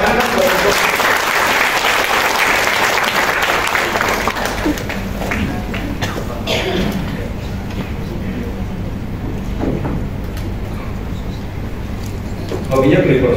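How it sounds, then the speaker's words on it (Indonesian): Audience applauding for the speaker's wife at a seminar on wealth mentality, a loud, dense and sustained wash of clapping from a large crowd that stays steady throughout and swells again at the very end. "Itu kasih tepuk tangan buat ibu."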